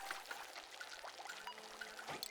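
Water pouring and splashing steadily in a base-building game as polluted water is dumped and pumped from bathroom wash basins, a continuous close trickle-and-pour with no talk.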